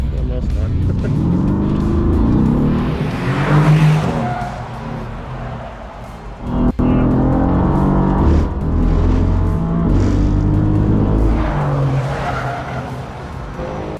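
A driver drives a Formula 1 race car on a fast track lap with a celebrity passenger, the engine roaring steadily throughout with tire squeal and skidding, under continuous voiceover talk.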